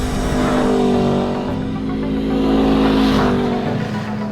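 A 2020 Aprilia RSV4 1100 Factory sport bike revs hard on a dyno, its engine holding a loud, sustained high-pitched wail that swells and eases slightly over a few seconds, with no voices.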